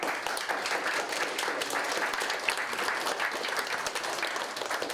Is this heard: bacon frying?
no